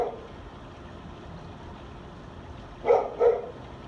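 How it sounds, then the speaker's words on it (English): A dog barks twice outdoors at night, two short, moderately distant barks over quiet background hiss. "sorry about the dog"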